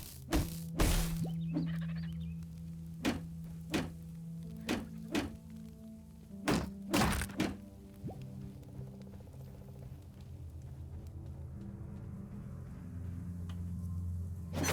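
Repeated pickaxe strikes chipping at ore in the video game Dysplaced: a series of sharp, evenly spaced thunks, some in quick pairs, ringing over a steady low game drone with no talk.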